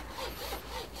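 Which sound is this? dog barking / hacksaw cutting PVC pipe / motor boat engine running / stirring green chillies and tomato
hacksaw cutting PVC pipe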